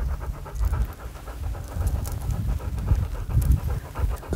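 A trained dog pants heavily and rhythmically close by, with quick repeated breaths that run all the way through and no talking.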